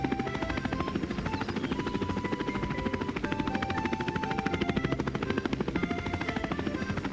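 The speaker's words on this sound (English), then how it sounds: "Look, the quadcopter is going up." Cartoon quadcopter drone taking off, a loud steady rotor buzz with fast rhythmic chopping pulses that hold level throughout.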